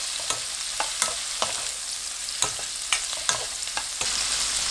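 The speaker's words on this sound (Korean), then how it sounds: "마늘이 노릇해지면 자숙새우 넣고 20초 볶습니다" Cooked shrimp and garlic are stir-fried in melted butter, with a soft steady sizzle broken by repeated sharp clicks and scrapes of a utensil against the pan. No one speaks.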